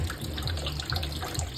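Condenser water running through a mash boiler still, a soft, steady trickle and splash of flowing water heard close up and alone at low level.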